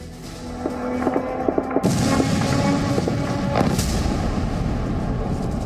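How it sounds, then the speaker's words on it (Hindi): Faint wavering tones give way to a sudden loud blast from a drone attack on Kyiv, followed by a heavy rumbling roar that lingers. "पहला ड्रोन अटैक"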